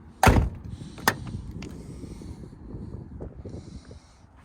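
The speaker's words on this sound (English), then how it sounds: "Again, I like the sound of these doors." Doors of a 1991 Nissan Laurel Medalist Twin Cam shutting: one sharp, close thunk followed by a second solid door slam about a second later, then quieter shuffling and rustling inside the car.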